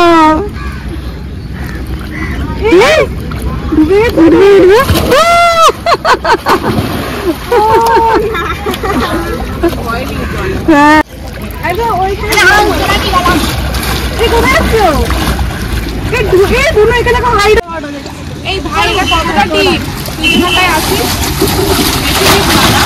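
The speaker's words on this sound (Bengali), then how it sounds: "এই দেখো ওখানে ডুব দিল, ওখানে উঠবে দেখো।" A person diving and splashing in a river in North Kolkata, loud repeated splashes and sloshing water close by, with lively voices and children's talk over much of it.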